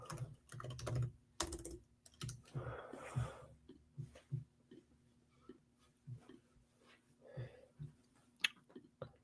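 Quiet, close clicks of a computer keyboard being typed on, arriving in uneven bursts and scattered single taps with short pauses between them.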